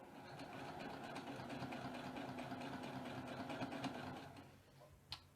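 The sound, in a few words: sewing machine stitching a quilt strip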